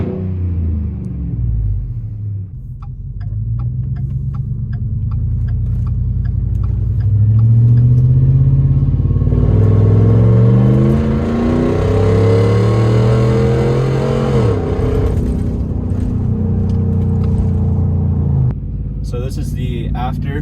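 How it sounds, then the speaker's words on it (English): Supercharged Ford Raptor with a whine tube intake mod, its engine rumbling loud and close, then rising through revs in a strong pull with a building whine before easing off, with occasional voice underneath. "There's a lot more intake sound, that's for sure."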